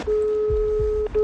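A telephone keypad gives a steady electronic tone that holds for about a second, breaks off briefly and resumes, clear and close, with a faint low rumble underneath.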